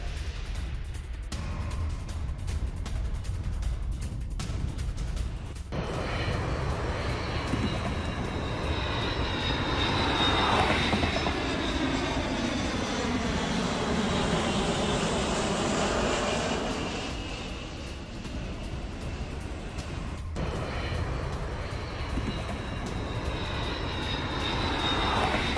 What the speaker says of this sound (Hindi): ये देखिए जरा, फारस की खाड़ी के ऊपर RC-135 की उड़ान